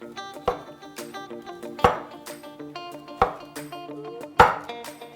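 A knife chops sous vide pork ribs into individual pieces for Chinese-style sweet and sticky BBQ. Four sharp, separate thunks land about a second apart over steady background music.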